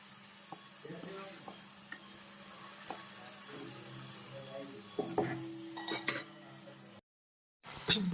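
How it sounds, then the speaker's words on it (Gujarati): Onions frying in a pan for shahi paneer after ginger-garlic paste goes in, a soft steady sizzle with occasional clinks and stirring scrapes, a louder burst of stirring near the end, then a brief gap. "આપણે અહીં ડુંગળીને સારી રીતે ચડવા દઈશું સોનેરી રંગની થાય ત્યાં સુધી આપણે ડુંગળીને શેકાવા દઈશું"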